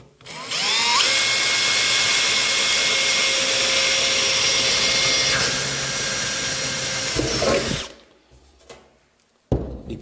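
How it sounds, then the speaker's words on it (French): Power drill boring a hole through zinc sheet metal, a loud steady high-pitched whine that rises quickly, holds for about seven seconds, then winds down and stops, followed by a brief clatter. "vous venez percer un trou au milieu."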